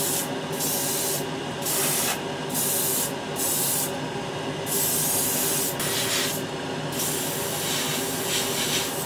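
Tamiya Clear Red paint sprays from an airbrush onto a Warhammer 40k model in a spray booth, a steady close hiss in repeated bursts with short gaps between passes.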